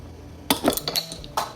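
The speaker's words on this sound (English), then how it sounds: "You see, I don't know how to open a can like this." A few sharp metallic clinks and taps close by as someone works at opening a can, brief irregular knocks with quiet gaps between them.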